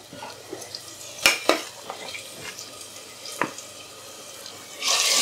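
Marinated chicken goes into a pan with lightly browned garlic, bringing soft sizzling, sharp metallic clinks of a spoon stirring against the pan, and a brief louder hiss of frying at the end.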